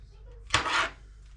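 A single knife chop lands on a glass chopping board while mushrooms and onions are cut, a sharp hard knock followed by a short scraping rasp over a low steady hum.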